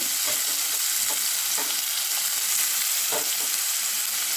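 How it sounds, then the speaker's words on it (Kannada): Tomato, carrot and ridge gourd pieces sizzle steadily in a pan while being sautéed for ridge gourd pulav, a close dense crackle with soft scraping stirs now and then. "ಇದೆಲ್ಲ ಹಾಕ್ತಾಯಿದ್ದೀನಿ. ಹಾಕ್ಬಿಟ್ಟು ತಾಳಿಸ್ತಾ ಇದ್ದೀನಿ ನಾನು ಈಗ."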